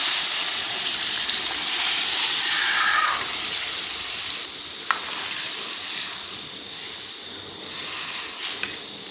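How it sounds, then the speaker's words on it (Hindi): Boiled mutton sizzles in a hot pan of oil spiced with salt, red chili, turmeric and fenugreek. A loud, continuous frying hiss with occasional pops is heard, and no one speaks. "अब हम इसमें उबला हुआ गोश्त डालेंगे।"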